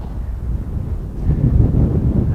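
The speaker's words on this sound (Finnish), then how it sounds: "Täällä käy kauhea tuuli." Strong wind buffets the microphone on a winter lake shore at the southern tip of Suolijärvi, a continuous low rumbling roar with no voices.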